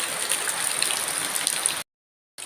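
Steady, dense rain falls on a countryside property in the Philippines, a continuous close hiss that stops abruptly near the end.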